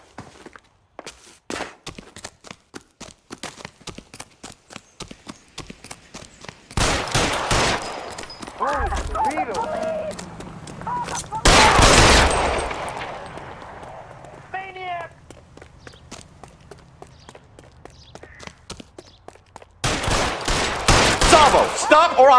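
Gunfire erupts in the LA Noire video game, with sharp bursts of shots breaking out in several loud clusters among footsteps and frequent voices talking.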